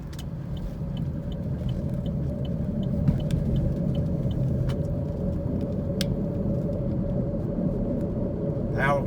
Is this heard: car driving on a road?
yes